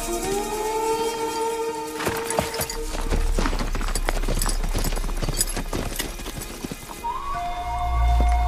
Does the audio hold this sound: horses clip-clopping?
yes